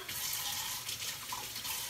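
Very hot water runs steadily from a tap into a cooking pot in a home kitchen, a continuous close hiss and splash with no pauses.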